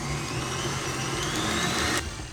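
An electric mixer whirs steadily through creamed butter with vanilla bean paste, a continuous motor hum with a slight rising whine, cutting off just before the end.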